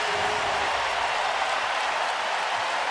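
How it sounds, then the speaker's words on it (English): A packed NBA basketball arena crowd roars steadily after an alley-oop, a dense, unbroken wall of cheering and applause that holds loud for the whole stretch before cutting off abruptly. "Listen to the crowd."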